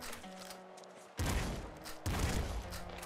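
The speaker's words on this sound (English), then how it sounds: "Flame director shotgun." Flame director shotgun firing in the video game Nuclear Throne, two loud, close blasts about a second apart, each a heavy burst with a crackling tail, following a quieter electronic tone.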